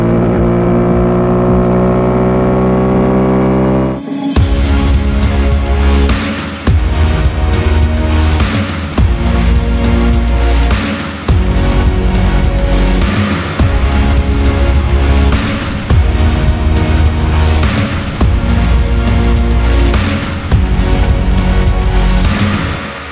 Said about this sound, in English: most of us are going to ride this Apache on the streets, and we finally got to test it out in the real world.